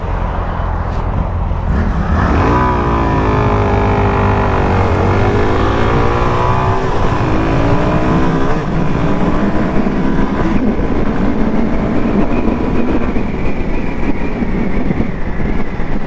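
A 2025 Suzuki DRZ4SM motorcycle accelerates hard, its loud engine rising through the gears with sharp pitch climbs and shifts, then holding a sustained roar with heavy wind rush.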